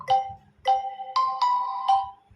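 Notification ringtone previewed on a Vivo Y01 phone: five bright chime notes in quick succession, clean and close with silence between, no talking.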